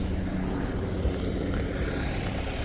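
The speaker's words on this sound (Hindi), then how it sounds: "वो देखो हेलीकॉप्टर जा रहा है" A helicopter passes overhead, its rotor and engine roar forming a steady, loud wash that fills the whole stretch, with no talk over it.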